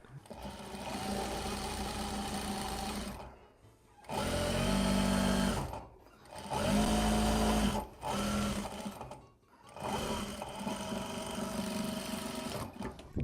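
A sewing machine stitches painted fabric in several bursts of rapid stitching, loud and close, separated by short pauses where the motor stops.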